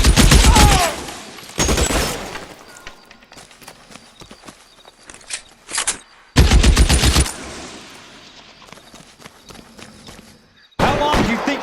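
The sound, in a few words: gunfire in shootout from L.A. Noire video game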